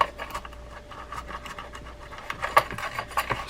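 Abrasive pad scrubbing a fishing reel coated in rod-and-reel cleaner, soft repeated rubbing and scratching strokes close by, faint and irregular.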